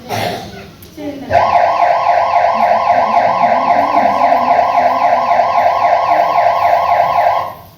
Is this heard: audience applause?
no